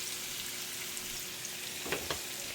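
Green chillies sizzling in a pan with onion for egg bhurji, a steady quiet frying hiss with a couple of brief louder crackles near the end, no voices.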